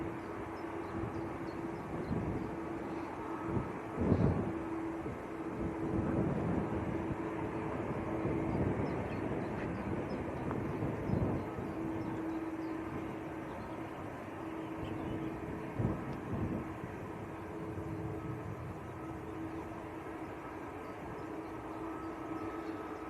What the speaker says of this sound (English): Big aircraft to go down to Ibiza. Aircraft is India Bravo, that's a 787-8 Dreamliner.